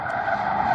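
Car doing donuts at a car meet, tires squealing in a sustained high skid with engine noise underneath, loud and close.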